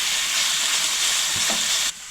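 Meat sizzling in a hot pan, a steady crackling hiss close by that cuts off abruptly near the end.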